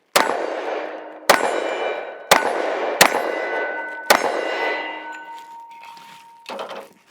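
Sig Sauer X-Ten 10mm pistol shots striking a steel plate about 10 yards away: five sharp, loud metallic clangs at uneven intervals, each ringing out with a long decaying tone, followed by a fainter rattle.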